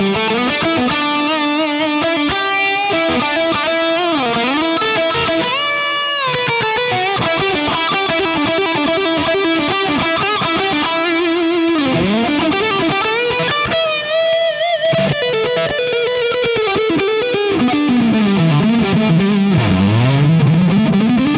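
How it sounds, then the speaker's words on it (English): Electric metal guitar with a distorted lead tone plus delay and reverb, playing a continuous loud melodic line with bends and sustained notes and no pauses. "let's hear how this guitar behaves with the lead tones. As before, just a little bit of delay and reverb"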